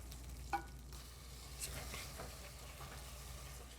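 Garlic and tomato for lentil dal are stirred in a pan, a faint low sizzle broken by a few soft scraping strokes.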